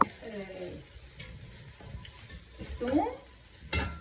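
Onion, garlic, crushed dried lime and paste fry in a pot for an Iraqi hammour fish stew, a soft sizzle under stirring scrapes and a few utensil clicks, close and moderately quiet.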